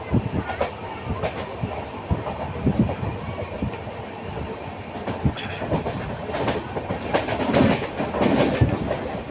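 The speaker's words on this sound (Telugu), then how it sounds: "ఏమాత్రం లేట్ చేయకుండా ట్రైన్ కరెక్ట్ టైంకి అయితే వచ్చింది" The 12270 Duronto Express from Nizamuddin to Chennai, heard from a 2S seating coach, runs along the tracks with a rhythmic clickety-clack of wheels, rumbling carriage noise and occasional sharper knocks.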